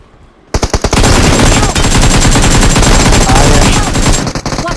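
AKM rifle gunfire in a shooter video game during a classic match: loud, rapid automatic bursts that start abruptly and hammer on almost without pause, very close.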